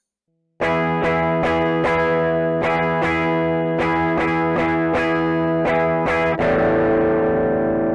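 Distorted electric guitar playing a song's outro, a dozen loud, sharp strums in an uneven driving rhythm, closing on a ringing open-string strum that sustains under heavy distortion.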